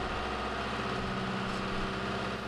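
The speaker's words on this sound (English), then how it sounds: "Hold the glow plug for 10 seconds until the diesel engine is running smoothly." A diesel engine on a CRC-Evans hydraulic power unit runs steadily at a low, even drone with a faint mechanical hum, fairly quiet and unbroken, no voices.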